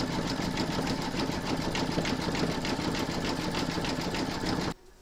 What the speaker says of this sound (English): Pop your hoop back into your machine and stitch round number five, and that's going to zigzag around the edge of the belly here.